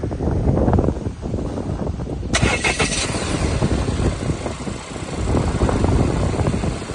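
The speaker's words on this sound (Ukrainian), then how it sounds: "Запустите мотор." A used car's engine starts and idles close by during an outdoor inspection, a rough steady rumble with wind buffeting the microphone throughout.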